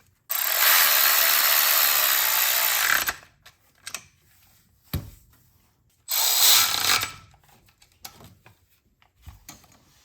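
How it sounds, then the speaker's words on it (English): Ratchet wrench tightening an oil pan bolt on a 2011 BMW 328i with the N52 engine, heard as two loud, close bursts of rapid clicking with scattered tool clatter and knocks in between. "And then you can torque it down."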